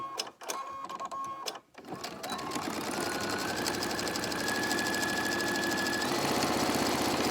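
A sewing machine top-stitches a fabric face mask seam, its needle running in a steady, fast, continuous rattle after a few short starting bursts, loud and close with no talking.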